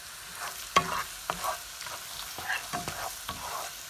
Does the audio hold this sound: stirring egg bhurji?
yes